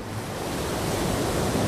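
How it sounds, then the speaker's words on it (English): Ocean surf on a good day for catching waves, a steady broadband wash of breaking waves with light wind noise across the microphone, continuous and fairly loud with no voices. "Todd Endress and Zane Hawley decide to catch some waves"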